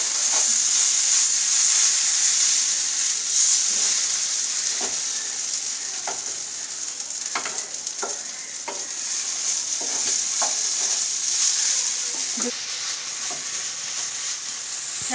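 Lentils frying with leafy greens in a kadai, a constant close sizzle and hiss broken by repeated scraping stirs of a spatula against the pan, with no talking.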